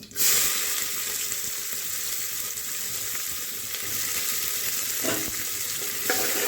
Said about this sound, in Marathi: नंतर ह्यात कांदा परतायला टाकू.